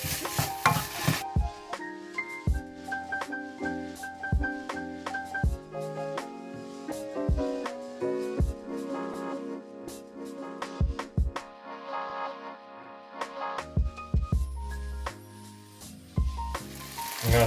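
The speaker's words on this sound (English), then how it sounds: "now we just saute it, and we mix our base together with our pasta" Broccoli and sausage are sautéed and stirred together with pasta in a pan, giving a soft sizzle under repeated scraping and clacking of a utensil against the cookware, close and moderately loud.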